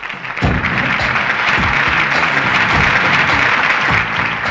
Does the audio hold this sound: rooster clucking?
no